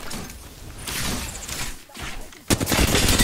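Video game gunfire in a competitive shooter match, bursts of rapid shots and a sharp loud volley near the end, crackling without pause.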